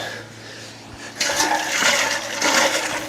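Water gushes and sloshes through a car fuel tank being rinsed out during a Chevy V8 casket car rebuild, starting suddenly after a quieter stretch and then continuing as a loud, close, turbulent rush.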